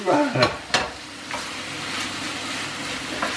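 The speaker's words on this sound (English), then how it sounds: "So, we mix this one up, folks, get this all melted down, mix it all in" Leftovers stirred and mixed in a sizzling pan, with several sharp scraping strokes near the start over a steady close frying hiss that continues alone.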